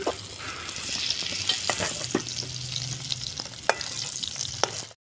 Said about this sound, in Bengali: বেশি কড়া করে ভাজলাম না, একটু হালকাই ভাজলাম।